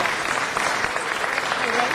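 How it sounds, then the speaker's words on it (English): Applause at a city council meeting: a dense, steady round of clapping from the chamber audience that fills the whole moment, with voices mixed faintly underneath. "Let's give them a round of applause."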